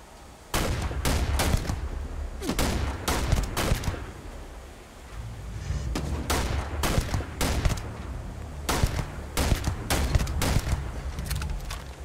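Bursts of rapid gunfire from a gun in the space game Starfield, several clustered volleys of sharp shots with brief pauses between them, loud and close, with no talk.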